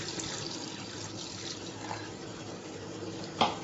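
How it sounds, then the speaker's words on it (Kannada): Water is poured into a pan of ground masala, giving a soft, low-level splashing trickle that runs throughout, with one brief clink near the end and no talking. "ಮಸಾಲೆ ಹಾಕೊಂಡು ನಾನು ಅದ್ರ ಜೊತೆನೆ ನೀರು ಹಾಕೋತಿದ್ದೀನಿ."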